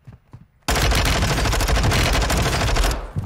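Gunfire in the shooter game Call of Duty Warzone: after a brief quiet moment, a loud, close sustained automatic burst erupts and rattles continuously for over two seconds before cutting off.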